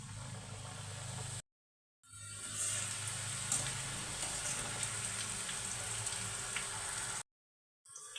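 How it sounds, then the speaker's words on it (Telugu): Cut snack pieces deep-fry in hot oil, a loud, continuous crackling sizzle heard close up, with two short silent gaps breaking the otherwise steady hiss. "ఆయిల్ బాగా వేడైన తర్వాత ముందుగా మనం కట్ చేసుకున్న వాటిని కొద్ది కొద్దిగా తీసుకొని ఆయిల్లో వేసి"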